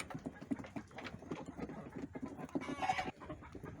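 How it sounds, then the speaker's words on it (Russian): Naked neck roosters and hens on a muddy farmyard, clucking and murmuring close by in a busy, overlapping chorus with footsteps and scuffling, and one louder squawk near the end. "Петухи голошейные."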